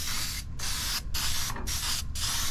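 Rust converter sprayed onto the floor of a 1981 Dodge D150 truck: loud, close aerosol hissing in five bursts with brief gaps between them, and no talking.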